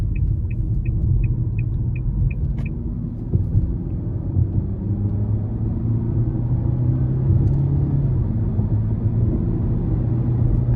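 A 2024 Nissan Altima 2.5 SV accelerates in sport mode onto an interstate, heard from inside the cabin as a steady, loud low engine and road rumble, with a few short high chime beeps at the start.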